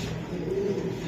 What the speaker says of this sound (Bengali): কবুতর এত ডাকে